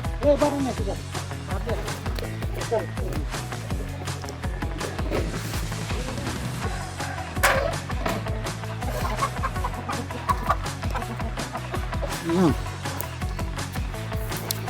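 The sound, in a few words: indigenous Meghalaya chickens clucking while being caught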